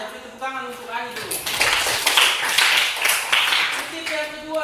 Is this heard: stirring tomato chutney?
no